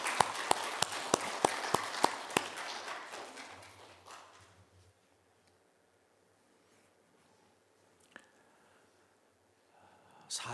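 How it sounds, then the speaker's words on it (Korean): Church congregation clapping in unison, sharp, evenly spaced claps for a few seconds that soften and die away into near silence, followed by a couple of isolated small knocks. "우리 이 시간 그 하나님 앞에 다시 한번 영광의 박수를 올려드리겠습니다"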